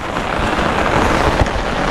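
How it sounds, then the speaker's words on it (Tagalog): Heavy rain pours at night, a dense, steady wash of noise with no breaks and a faint low rumble, heard close and loud with no talk. "gabi na, tas malakas pa yung ulan"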